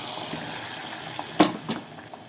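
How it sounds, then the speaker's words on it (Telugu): Tempering spices hit hot oil for a dal made with amaranth, sorrel and spinach leaves, giving a soft continuous sizzle broken by a couple of sharp crackling bursts and a stirring clatter near the end. "తాలింపు అయితే వేసేస్తున్నాను ఫ్రెండ్స్"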